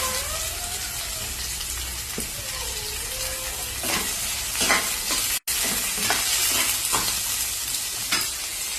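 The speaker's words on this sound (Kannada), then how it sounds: "ಈಗ ಈರುಳ್ಳಿ ಹಾಕ್ತೀನಿ. ಈರುಳ್ಳಿನೂ ಸ್ವಲ್ಪ ಕೆಂಪಾಗೋವರೆಗೂ ಹುರ್ಕೋಬೇಕು ಇದನ್ನ." Onions sizzle steadily in a hot pan as a spoon stirs and scrapes through them, the frying loud and constant at close range with no talk.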